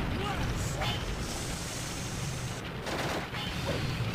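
Sustained machine gunfire in the Sonic series game Shadow the Hedgehog, pounding a damaged, smoking machine in a continuous dense barrage mixed with game noise, while someone talks over it.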